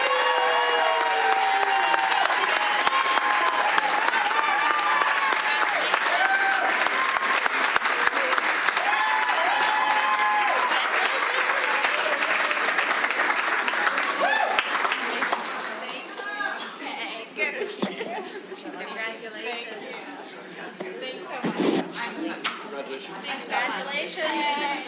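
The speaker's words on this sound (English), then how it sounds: "Let's give all of these educators a huge round of applause." Sustained audience applause for educators at a school board meeting, a steady broad wash of clapping for about fifteen seconds that thins into scattered claps and murmuring chatter.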